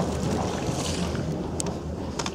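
Twin engines of a Lagoon 450 sailing catamaran idling at the dock just after start-up, a steady low rumble with some wind noise over the microphone, no voices.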